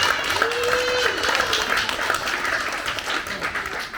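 Wedding guests applaud during the speeches, a fairly loud, continuous spatter of clapping from a room full of people, with a faint tonal voice or whistle briefly rising above it near the start.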